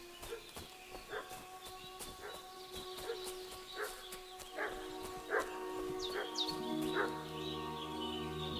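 A dog in the video game Kingdom Come Deliverance II barks repeatedly at a distance, a series of faint, evenly spaced yaps over a quiet outdoor ambience with birds, closing with a low rumble.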